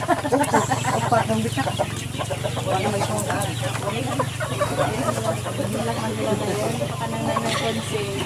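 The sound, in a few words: chickens clucking in a farm enclosure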